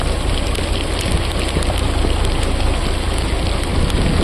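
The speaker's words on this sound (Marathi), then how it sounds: "पाऊस, जोराचा पाऊस आलाय आहे." Heavy rain pours down steadily in a dense, unbroken hiss, with a low rumble beneath and no voices.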